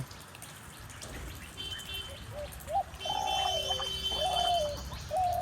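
A dove calling near its nest with hatched chicks outdoors, soft repeated rising-falling coos at moderate distance over a quiet background hiss, with faint bird chirps.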